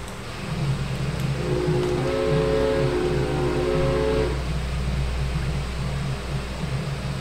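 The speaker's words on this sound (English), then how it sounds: "We have a train approaching here, right?" In the video game Train Fever, a train approaches with a rising rumble and a sustained horn-like tonal chord for a couple of seconds, over steady background engine noise and no talk.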